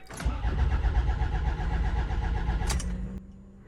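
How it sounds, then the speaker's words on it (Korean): A diesel car engine cranks steadily for about three seconds without catching, then the starter stops and a faint hum remains. "다 끝내고 시동을 걸어보는데 시동이 안 걸립니다"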